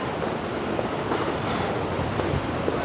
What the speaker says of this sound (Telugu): ఇది నేను వెళ్ళే రైల్వే స్టేషన్ అనమాట.